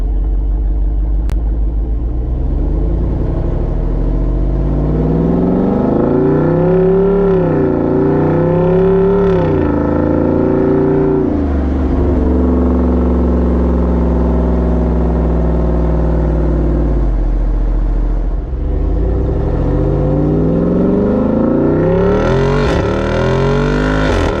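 Jeep Wrangler 392 with an AWE Tuning exhaust, valves open, roaring loud and close as the revs climb and drop in repeated pulls, deep rumble running throughout.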